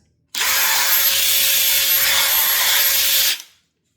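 A cordless Flex impact driver runs at full speed in one steady burst of about three seconds, a loud high whine with a constant tone, then spins down and stops.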